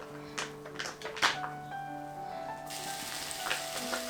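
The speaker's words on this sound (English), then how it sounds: "the pan is back on, and I'm putting in some bacon, just maybe a slice or two" Bacon, a slice or two, frying in a pan, with a steady broadband sizzle and a few light taps and clatters of the pan, close and moderately loud throughout.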